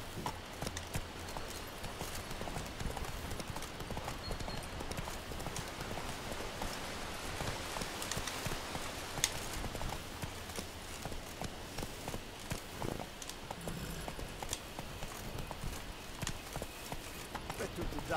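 Hooves of Geralt's horse Roach clip-clop steadily across ground in The Witcher 3: Wild Hunt, a rhythmic trot running under game music and ambience with voices talking throughout.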